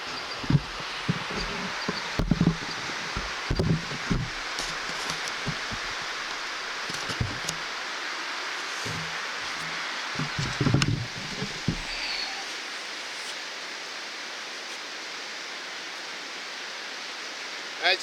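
A fast-running river rushes in a steady broadband roar. Scattered handling knocks and thumps fall over the first twelve seconds before the water sound continues alone.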